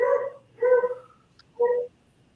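A dog barks three times nearby in a quiet room, each bark a short separate bout with pauses between, and no one speaking over it.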